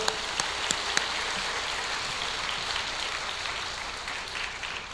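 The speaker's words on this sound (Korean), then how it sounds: "큰 박수 올려드리겠습니다" A church congregation at a Sunday service applauds in a soft, even wash of clapping that holds steady for several seconds with a few sharper claps near the start.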